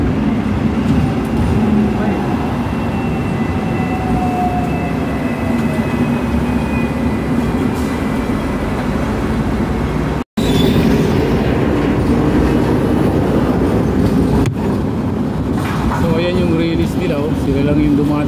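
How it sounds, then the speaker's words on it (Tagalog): Riding on top of a tram gives a constant loud rolling rumble with rail clatter and faint wheel squeals over the whole stretch, with people talking over the noise. "dito nga tayo sa taas nitong tram na to"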